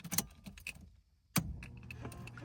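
A key is turned in the ignition of a Nissan Skyline R33 GTS-t: keys jangle softly, a brief quiet pause follows, then a sharp click and a louder mechanical burst settles into a low hum inside the car.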